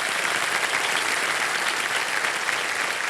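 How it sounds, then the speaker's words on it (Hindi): Studio audience applause on the quiz show Kaun Banega Crorepati, a continuous, even wash of many hands clapping that holds steady throughout. "तालियां बज जाए हमारे कंपेनियन के लिए"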